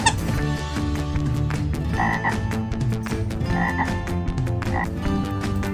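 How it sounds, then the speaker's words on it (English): A green frog croaks loudly and close in a steady repeating chorus of rasping calls, with no voices. "Green frog."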